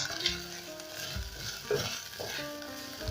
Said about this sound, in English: I'm going to stir it and let the meat brown kidogo kidogo.